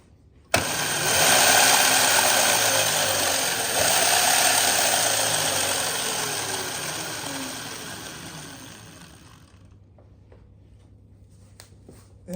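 Electric motor of a kids' electric dirt bike spinning its lifted back wheel, a steady high whine that starts abruptly, holds loud and close, then winds down to a faint hum with small clicks.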